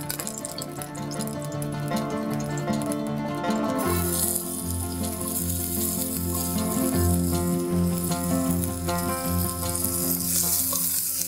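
Onions frying in a small amount of ghee for Rajasthani laal maas, a dense continuous sizzle close up with steady crackling throughout and no talking.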